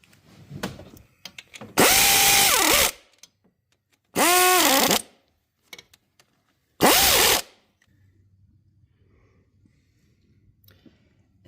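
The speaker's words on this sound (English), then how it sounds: "after this, I can start torquing all the bolts down" A power tool on a 2007 Toyota Camry Hybrid water pump job runs in three loud whirring bursts as bolts are driven down, with rising and falling pitch and short quiet gaps between, then a faint hum.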